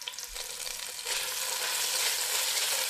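Broad bean chili paste stir-frying in a wok, a loud, dense sizzle that swells after a second, with stirring and no talk.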